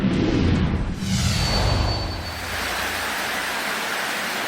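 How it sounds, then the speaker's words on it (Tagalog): Heavy rain and floodwater during a monsoon downpour in Palimbang, Sultan Kudarat, heard as a dense, loud, continuous rushing wash that surges early and then holds steady, with no voices. "Pinasok ng baha ang isang bahay sa Palimbang Sultan Kudarat dahil sa malakas na buhos ng ulan"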